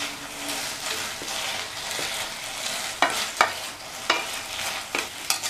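A spoon stirs fried cauliflower florets into sizzling Gobi Manchurian gravy in a hot pan, giving a steady close frying hiss broken by several sharp scraping clacks against the pan toward the end.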